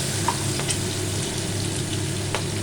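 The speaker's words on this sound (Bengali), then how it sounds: "তেল গরম হয়ে গেছে, তার মধ্যে আমি কালো জিরে, দুটো কাঁচা লঙ্কা মাঝখান থেকে কেটে আর তেজপাতা দিয়ে দিলাম।" Nigella seeds, slit green chillies and a bay leaf sizzle steadily in hot oil, a close, even frying hiss with a couple of faint pops and no voices.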